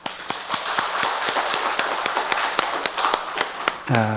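A church congregation at a 62nd-anniversary Sunday service claps together in a steady, quick beat of sharp, evenly spaced hand claps, with a brief voiced tone rising at the very end.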